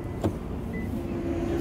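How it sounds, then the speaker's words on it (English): Electric windows on a Toyota Auris 1.8 Hybrid hum steadily inside the cabin, a continuous motor whine running throughout, with a brief knock near the start. "Front and rear electric windows"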